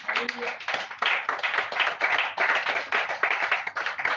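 Church congregation clapping in steady repeated bursts of hand claps, fairly close and continuous throughout, with no voices standing out above it.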